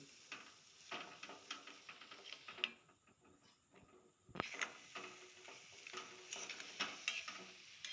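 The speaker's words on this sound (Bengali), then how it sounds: "এইভাবে অনবরত নাড়তে হবে নাড়তে নাড়তে একদম আমটা শুকনো হয়ে যাবে" Mango pickle is stirred continuously in a pan, soft scraping strokes and light sizzling repeating at a quiet level, with a brief lull midway before the rhythmic stirring resumes; no speech.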